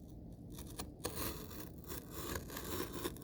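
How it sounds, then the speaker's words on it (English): Open scissor blades dragged along a wooden stick to score a trough following a letter outline, producing faint, continuous scraping and rubbing with a few small clicks, quiet and close. "take your scissors, open them up, all right? Just go"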